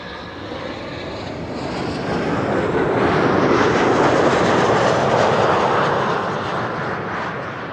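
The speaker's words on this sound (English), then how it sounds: "KLM Flight 767, arriving from Bonaire. And that's an A330." A KLM Airbus A330 arriving at Amsterdam Schiphol Airport, heard as a steady, loud jet roar that swells toward the middle and eases off slightly, with no voices over it.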